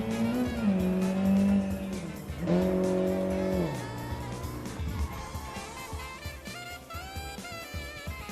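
A car at full throttle in the BeamNG driving game on a mountain downhill run, engine revving hard with tire squeal and skidding through the last corner, loud and continuous to the finish.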